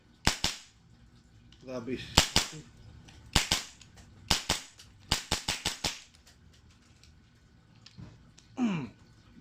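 Airsoft gas blowback rifle fitted with a dummy silencer firing a sequence of sharp, close cracks, singly and in quick runs, with brief speech between shots.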